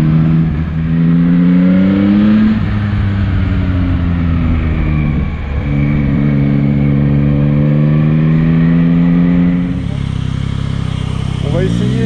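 A Yamaha MT-09 motorcycle engine pulls smoothly in fourth gear at steady road speed, a loud continuous drone with gently rising and falling pitch and wind noise throughout.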